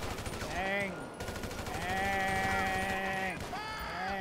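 Gunfire in the video game GTA Online: rapid bursts of shots run under a man's loud drawn-out voice, which carries most of the clip.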